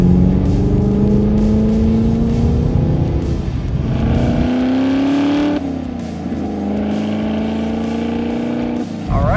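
A Chevrolet Camaro ZL1 with a supercharged LT4 V8 accelerates hard in third gear at about three-quarter throttle, its loud engine note rising steadily in pitch, briefly dipping, then climbing again.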